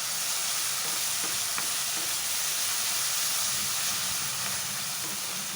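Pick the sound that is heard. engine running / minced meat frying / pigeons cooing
minced meat frying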